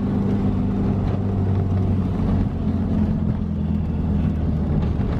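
A 1977 Triumph TR7 coupe in Inca Yellow without power steering, heard from inside while driving: a loud, steady engine drone with a low hum that holds constant, with no voices.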